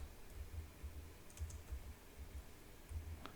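Typing on a computer keyboard while searching for wall art mockups in Canva, a run of soft low key taps in short bursts, close and quiet, with no talking.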